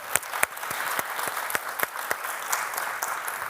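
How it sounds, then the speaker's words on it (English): Audience clapping at a higher-education conference panel for an honoree in the room: a moderate crowd applauding steadily, with a few sharp, close claps standing out from the even wash. "please clap for him"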